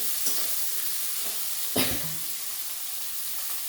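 Onion, garlic and tomato sauté in a pan for moong dal muri ghonto with fish head, a steady, close hiss of frying broken by a couple of stirring scrapes, one of them louder near the middle, with no voice.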